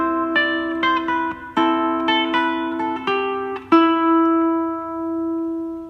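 Fingerstyle ukulele picks the intro of a song, with clear plucked notes in a gentle repeating pattern that ends on a ringing, sustained note.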